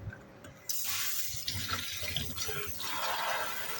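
Grapes being rinsed under a running tap in a sink, water splashing steadily and close for several seconds after a sudden start, with no talking.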